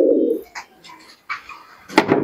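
Desi Giribaz pigeons at a pigeon sale in Shantipur give low, throaty coos, one at the start and another near the end, with brief soft rustles between them.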